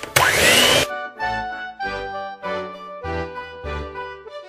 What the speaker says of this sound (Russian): И опять миксером хорошенько перемешаем